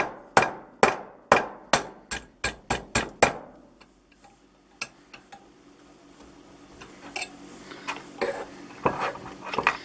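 Nine sharp hammer strikes on metal in a steady, quickening rhythm, shaping a hand-made counterweight mount without an anvil, ringing loudly up close, then quieter scattered taps and clinks.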